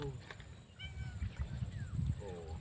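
A cat meows several times on a fishing trip at Talim Island, the short rising cries sitting fairly close over a constant outdoor rumble and background murmur.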